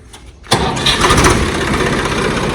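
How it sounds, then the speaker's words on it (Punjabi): A 2012 Swaraj tractor with a Kirloskar engine cranks briefly and then bursts into life at close range, settling straight into a loud, throbbing diesel idle that holds steady to the end. "ਹੁਣ ਤੁਹਾਨੂੰ ਸਟਾਰਟ ਕਰਕੇ ਦਿਖਾਉਣਾ ਟਰੈਕਟਰ ਸਾਊਂਡ ਚੈੱਕ ਕਰੋ"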